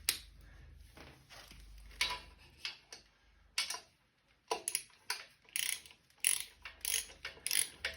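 Ratchet with an extension clicks in quick bursts while loosening the stock exhaust bolts on a 2018 Harley Sportster Iron 883, short runs of close, sharp pawl ticks separated by brief pauses.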